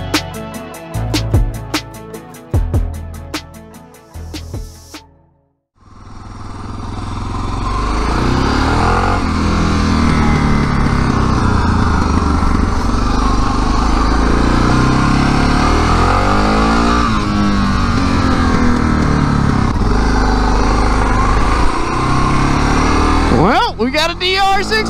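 Suzuki DR650 motorcycle engine running steadily on the road, a loud, continuous drone with wind rush after a brief quiet gap, preceded by a few seconds of rhythmic thumping and talk.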